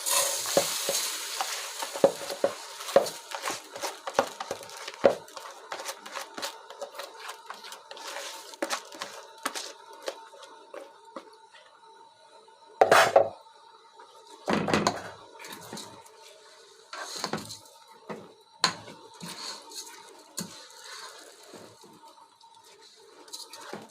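Rice sautéing in melted ghee in a pot, with a constant gentle sizzle and frequent close spoon scrapes and knocks against the pot, including a few louder clanks midway; nobody speaks.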